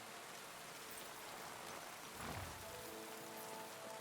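Steady rain in Kingdom Come: Deliverance II pours down as an even, close, continuous hiss, with a slightly heavier swell of drops around the middle and no talk.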